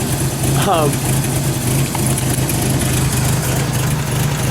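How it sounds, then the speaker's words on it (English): A car engine idles roughly with a steady low rumble, close and loud, while a person talks over it. "It stutters a little, but it seems to idle a lot more."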